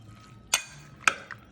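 A spoon stirs halibut ceviche in lime juice, giving two sharp clinks against the bowl about half a second apart and a fainter third tap, with no talking.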